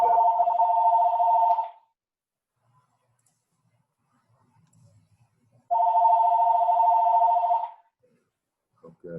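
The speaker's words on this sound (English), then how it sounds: "okay, whose phone's ringing?" During a meeting, a phone rings in two separate bursts of an electronic warbling tone, each lasting under two seconds and separated by several seconds of near silence.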